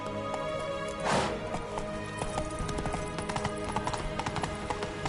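In a video game, the horse Roach gallops with quick rhythmic hoofbeats that thud steadily and close over a background music bed, with a brief whooshing swell near the start.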